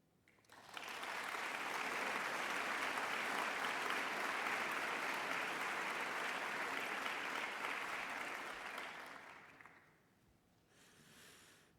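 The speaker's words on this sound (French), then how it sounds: "Je vous invite à les applaudir." Sustained applause from a large conference audience at the Tech For Climate 2024 event in France, loud and dense for about nine seconds before fading to a quieter patter.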